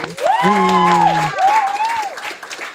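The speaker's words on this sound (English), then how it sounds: "We don't need a mechanism to turn the applause down for you, Claudio" A studio audience applauds to welcome guest Claudio Perrone onto a talk show, steady clapping beneath loud voices that rise and fall over it.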